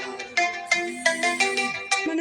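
A phone ringtone plays loud and clear, a bright electronic melody of repeated tonal notes with no talk over it.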